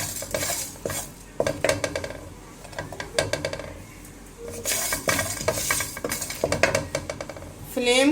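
Masala roasting in a pot on a slow flame, stirred with a metal spoon that scrapes and clinks against the pot in repeated bursts over a faint sizzle.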